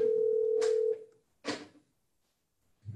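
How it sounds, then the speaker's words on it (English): A phone goes off during a spoken talk, giving one steady electronic tone of about a second followed by a short burst, with nothing else around it. "Sorry, this phone's going off."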